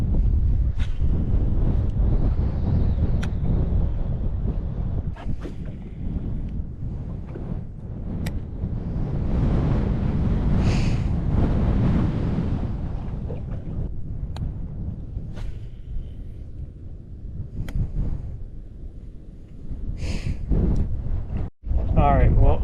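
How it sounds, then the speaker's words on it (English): Strong coastal wind buffets the microphone in a steady low roar during an inshore fishing outing near Jacksonville, Florida, with gusts swelling and easing and occasional handling knocks; someone talks over it. "The wind is horrible and it's just getting worse"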